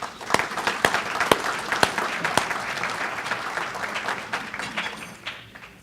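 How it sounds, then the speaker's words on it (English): Audience applause at a city luncheon, a dense wash of many hands clapping with a few sharp, close claps standing out, steady throughout and slowly thinning toward the end. "And I'd like to offer them a round of applause."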